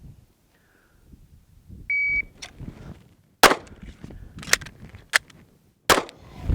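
During a pistol reload drill, a shot timer gives one short electronic beep, then sharp loud gunshots ring out, singles separated by pauses for the magazine change, with faint handling clatter between them.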